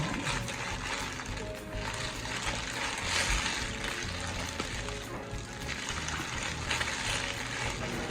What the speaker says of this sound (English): we're gonna put it in the water to make it wet.